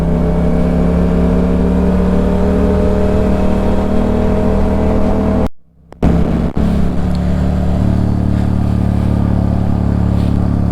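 Motorcycle accelerating while being ridden, a loud sustained engine drone that climbs in pitch with a strong rumble. The engine drops out for a brief moment, then comes back and keeps pulling.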